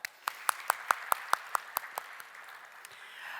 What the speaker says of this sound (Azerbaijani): özünüzə alqışlar.